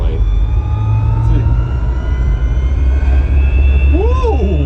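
An electric-converted 1975 Volvo 164 accelerates with a rising, airplane-like whine, tonal sweeps climbing and looping over a steady low rumble inside the cabin, and people talk excitedly in the car.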